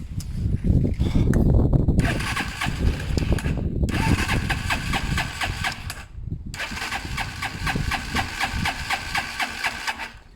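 A Zontes motorcycle engine on manual choke being started, with a loud cranking start, then repeated bursts of revving and idling broken by brief cutoffs, close up and without talk.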